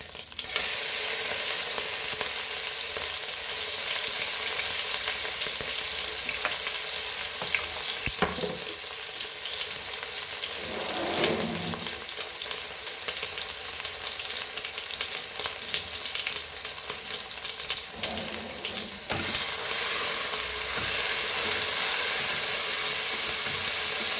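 Crushed chili and garlic frying in a pan for Goan tiger prawn and brinjal xec xec, a steady close sizzle with occasional stirring scrapes and no talk.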